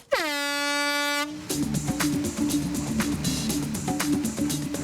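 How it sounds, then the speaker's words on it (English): Loud air horn blast as the starting signal at a Margate scrapheap-building contest, a sustained blare of about a second, followed by rhythmic music and mechanical clatter. "Go on the sound of the horn!"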